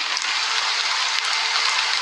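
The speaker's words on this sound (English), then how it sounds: "it's still raining" Rain falls steadily in the video game Honkai: Star Rail, a dense, even hiss of drops that stays constant and fairly loud with no other sounds.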